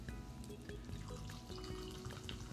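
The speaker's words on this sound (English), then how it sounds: "Seltzer water." Seltzer water is poured over ice and lemon slices in a drink, giving a faint, steady fizzing and crackling of bubbles with light clinks.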